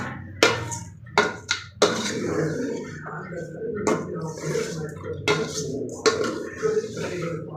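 Chicken curry being stirred in a cooking pot, with a few sharp utensil clanks against the pot over a steady sizzling and bubbling background, close and moderately loud.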